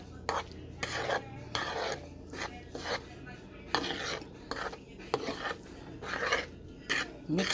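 Shrimp fried rice being stirred in a pan makes repeated scraping, rasping strokes of a utensil against metal in an uneven rhythm, close up, with a low hum beneath.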